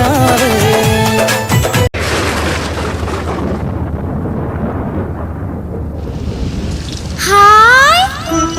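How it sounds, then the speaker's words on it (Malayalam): Rain falls at a children's preschool arts festival, a loud, steady broadband rush with a thunder-like rumble that cuts in abruptly after music and runs for several seconds before rising sung or tonal sounds take over. "അമ്മേ ദേ മഴ പെയ്യുന്നു."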